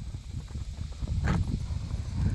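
Horses canter in a round pen, a continuous rumbling drum of hoofbeats on soft ground, fairly close and steady with no voices.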